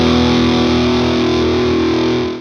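An electric guitar rings out with a compressor added, a sustained, even, distorted chord holding steady at full level before fading slightly at the end.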